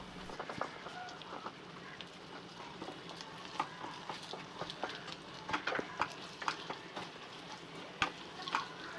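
Basmati rice and eggs stirred in a frying pan for Korean-style egg fried rice, a soft sizzle broken by frequent irregular scrapes and taps of a spatula.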